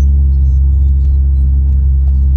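A low, steady exhaust drone from a modified car cruising on a back road, heard from inside the cabin as a constant deep rumble with no revving.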